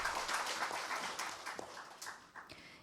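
Applause from the audience at a Korean industrial accident insurance policy forum, a modest, fairly faint clapping that fades toward the end.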